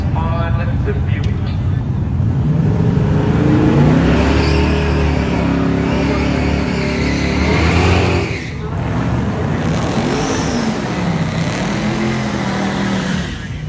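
Engines roar and rev at a drag strip as a Buick races, the loud rising and falling drone sweeping past amid crowd noise, with a voice talking over it.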